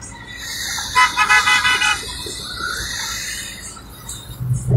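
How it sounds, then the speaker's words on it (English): Truck horns toot in a loud, uneven burst of several blasts at a Freedom Convoy rally supporting Canadian truckers in Port Huron, Michigan, followed by road noise and another honk near the end. "Trucks."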